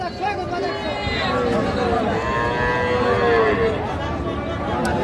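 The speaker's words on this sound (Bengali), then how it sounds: "এইটাও একটা ষাঁড় বাছুর।" A bull calf at a busy cattle market gives a drawn-out moo, while other cattle call and a crowd chatters steadily all around.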